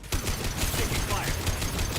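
Gunfire in the video game Mass Effect 2, a loud dense burst of rapid shots over rumbling battle noise, continuous through the moment with no clear talk.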